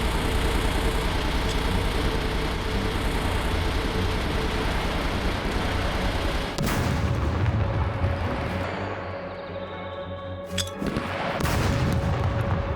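In the survival game SCUM during a raid, a loud, dense rumble of blasts and gunfire with a sharp crack around midway as a grenade goes off, heavy and continuous.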